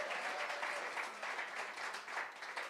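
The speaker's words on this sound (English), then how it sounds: "Please applaud all of my fantastic judgmental judges and" Audience at a state poetry recitation finals applauding the judges, a short burst of moderately quiet clapping from a modest crowd, steady and even without speech over it.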